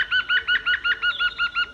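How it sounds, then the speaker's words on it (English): A green woodpecker gives its loud laughing yaffle call, about ten evenly spaced ringing notes in a quick run, clear and fairly close with no other sounds. "The nickname of the green woodpeckers is yaffle, and this is because of the sound of their call, which sounds like a loud, laughing call"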